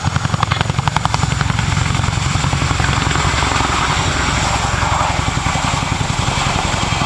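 A military helicopter with twin 5,000 hp Honeywell engines makes a high-power departure at an airshow: a loud, continuous turbine roar with a rapid, regular blade thump throughout.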